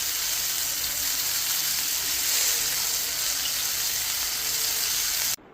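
Chicken fries in a pan with a steady, loud, close sizzle that holds without a break for several seconds and then cuts off abruptly.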